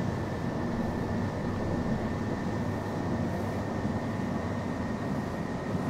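Train running in the Open BVE simulator on Birmingham's Cross City South line, a continuous steady rumble with a faint high whine, no talk.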